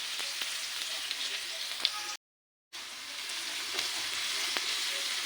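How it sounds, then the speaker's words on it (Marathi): Garlic sizzles and fries in hot oil for peanut chutney, a steady, crackling hiss close by that cuts out briefly midway before resuming. "तर मी जो लसूण जो घेतला होता ना टेचून तो मी आता याच्यामध्ये चांगला असा परतून घेणार"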